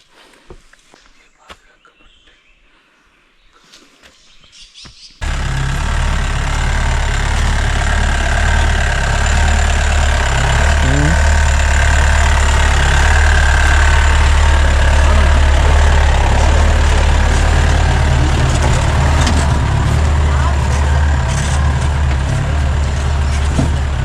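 A jeep engine idles loudly and steadily nearby on a forest road. It starts abruptly after a few seconds of quiet, faint clatter and then runs as a constant low rumble to the end.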